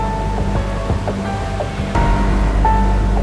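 Sea surf rolling off the coast of Yeosu, South Jeolla, where boats work a red-tide-stricken stretch of water; a steady wash of waves with low wind rumble and faint engine tones underneath.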